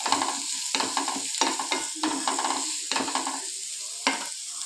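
Beans, onion, green chilli and curry leaves fry in a pan for semiya upma, with a rhythmic series of close spoon scrapes over continuous sizzling.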